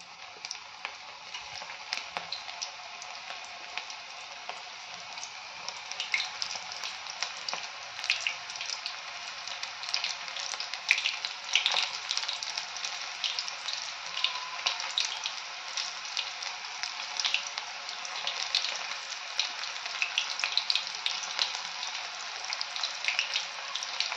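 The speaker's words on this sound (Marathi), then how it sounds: "आता आपण आणखी थोडे भजे तळून घेऊ." Onion bhaji pakodas deep-frying in hot oil, with a dense, steady crackling hiss that runs unbroken throughout.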